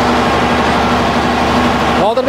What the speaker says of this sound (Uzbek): Nodirbek aka, traktor nima yaptilar?